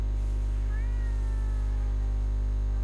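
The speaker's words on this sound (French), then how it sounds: "Ah, là, il y a un chat, là." A cat meows faintly once or twice on a street in Tokyo, the cry rising and falling against a steady low electrical hum.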